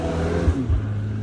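A Porsche 918 supercar driving by at Monterey Car Week, a short low engine drone with a brief swell as it passes at moderate distance.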